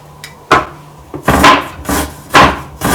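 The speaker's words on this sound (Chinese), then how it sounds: "这个蒜我们拍一下，不粒不抠也不碎。" Garlic smashed with a cleaver on a cutting board, heard as five loud, close, separate thwacks with short gaps between them and no talking.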